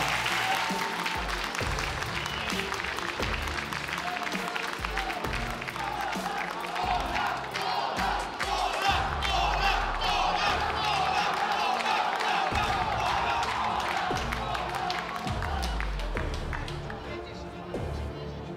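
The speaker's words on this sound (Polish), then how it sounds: "Wielkie brawa, wielkie brawa dla Adriana Polaka." A loud arena crowd at a FAME free-fight event applauds and cheers after a bout, a dense, continuous roar of clapping and shouting that stays strong and then eases slightly at the end.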